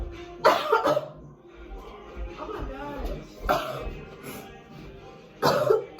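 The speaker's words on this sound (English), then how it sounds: "she's coughing up blood" Harsh, wet coughs burst out three times at intervals while a voice speaks briefly between them, close and fairly loud.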